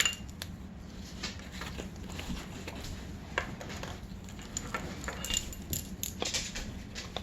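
A measuring teaspoon scrapes and clinks against a paprika container during cooking, giving quiet, irregular metallic taps and scratches close by.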